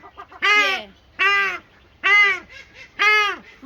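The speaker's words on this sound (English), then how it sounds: "They're mandarin ducks." Mandarin ducks on a farm call in four loud, harsh, evenly spaced honks, each about half a second long, close by with little else around.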